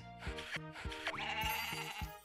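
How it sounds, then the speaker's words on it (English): A goat in the farming video game Story of Seasons gives several short, high bleats in quick succession, clear and close, over light game sounds. "it's so cute when it baas"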